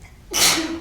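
A single loud, close sneeze bursts out abruptly and trails off with a breathy hiss.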